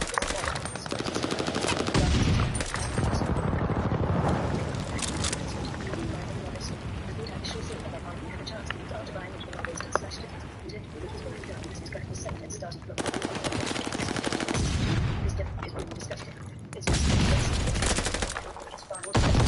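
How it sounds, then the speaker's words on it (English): Strafing run gunfire in the online shooter Call of Duty Vanguard during a hardpoint match, sustained rapid machine-gun bursts and fusillades that rise and fall in loud waves, with speech heard over the shooting. "Enemies call a strafing run."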